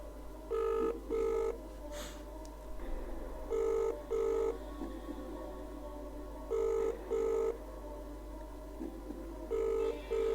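An outgoing call rings on a telephone line, paired double-pulse ringback tones repeating at even intervals, with soft background noise and an occasional low voice between rings.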